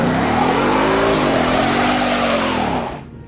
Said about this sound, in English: This is the new Ford Mustang,